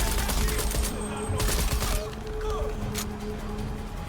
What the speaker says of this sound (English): What's with all the machine gun fire over there?